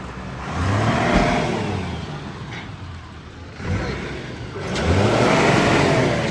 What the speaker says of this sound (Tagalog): 4HF1 na dump truck